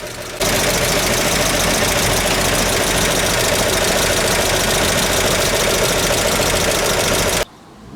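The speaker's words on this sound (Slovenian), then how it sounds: "Motor resnično dobro deluje" A GMC CCKW 352/353 World War II military truck engine runs steadily and loud, a close, even knocking rumble that cuts off abruptly near the end.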